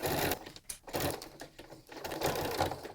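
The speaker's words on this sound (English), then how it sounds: "Just like before, we're stitching." A sewing machine stitches a toddler bib, giving a steady close whirring hum with short pauses between runs of stitches.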